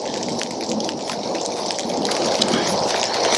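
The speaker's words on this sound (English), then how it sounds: "It's starting to rain, so it's getting kind of wet here." Rain falls steadily in the woods, a dense, close patter of drops on leaves and ground, continuous and fairly loud with no talking.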